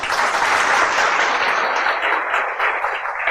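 An audience claps through a talk about the city of Indore, producing dense, steady applause that stays loud and even from start to finish with no voices over it.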